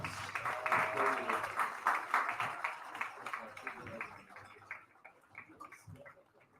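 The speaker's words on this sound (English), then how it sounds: "Give them another round of applause." Fans at a high school varsity baseball game clap, a thin scattered applause of a modest crowd heard from a distance that fades out over several seconds.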